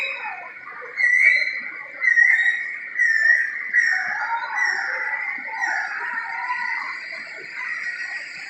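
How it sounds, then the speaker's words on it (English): Birds calling in an indoor rainforest exhibit: a loud series of shrill, repeated calls about once a second for the first four seconds, then a steadier chatter of softer bird calls continuing through the rest. "Right there, you have some pretty birds."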